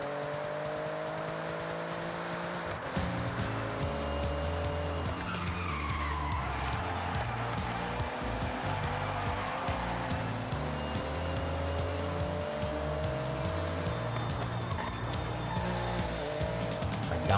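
Engine of a car held in third gear in the Forza Horizon 5 racing game, a steady loud drone with shifting tonal harmonics and some tyre skid noise, running continuously throughout.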